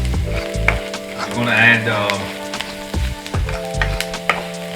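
Onions sizzling in a pan on lowered heat as they brown, a steady hiss with stirring clatter, under a person's speech and background music.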